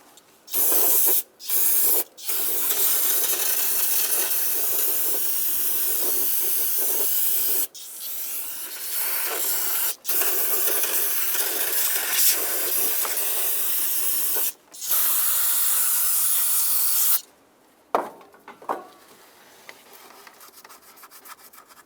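Brake clean is sprayed in hissing bursts onto an engine gasket surface while a coolant temperature sensor is being replaced on a 2007-2015 Mazda CX-9. There are several spurts, some short and some long, close by and loud, with brief pauses between them.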